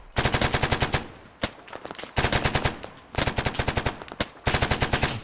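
Gunfire in an Arma 3 firefight, with repeated bursts of rapid, sharp shots in four clusters separated by brief pauses, loud and close with no talking.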